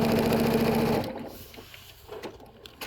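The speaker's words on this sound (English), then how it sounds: "then you can just stitch away all the way across here, holding it in place, pausing if you have pins or clips to take out" A sewing machine stitches quilt pieces in a quick, rhythmic whir for about a second, then stops, leaving quiet handling sounds and faint fabric rustles.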